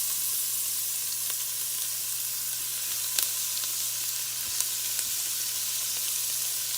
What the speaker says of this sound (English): now we're going to let those onions just start sauteing just a few minutes